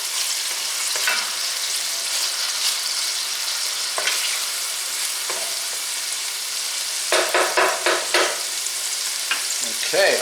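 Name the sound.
stirring garlic paste into frying onion in a pan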